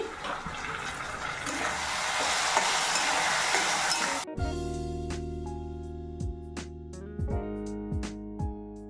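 Chopped onion with ginger and green chili paste frying in mustard oil with five-spice seeds, a loud dense sizzle for about four seconds before an abrupt cut to steady tonal sounds with scattered clicks.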